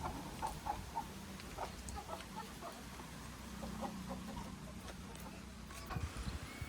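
Faint, scattered clucking from chickens in the distance over a steady outdoor hiss, with a low rumble running underneath.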